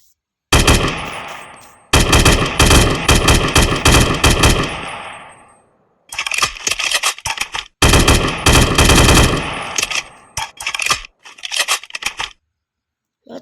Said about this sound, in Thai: M16 ขอลองยิงดู ค้างเลย